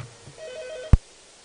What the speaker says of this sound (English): Did I put my phones ringing?